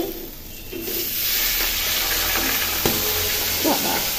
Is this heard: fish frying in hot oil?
yes